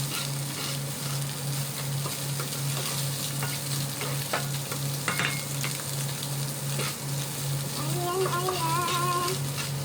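Vegetables stir-frying in a pan for fried rice, a steady close sizzle with scraping and stirring clatter throughout, and a brief whistling tone near the end.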